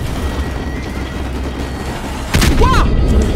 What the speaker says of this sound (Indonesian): Dari mana lagi tuh yang nembak?